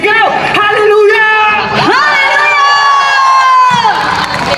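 A large crowd at an outdoor worship festival on capitol grounds shouts and cheers loudly and continuously, with sustained whooping voices rising and falling close by.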